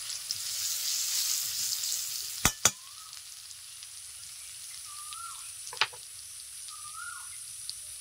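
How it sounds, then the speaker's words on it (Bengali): Turmeric hits hot oil in a pan for a Bengali pabda fish curry, giving a steady close sizzle with a few sharp clicks from a utensil and faint chirpy squeaks, no voices. "আমি তেলের ওপরে হলুদ দিয়ে দিচ্ছি"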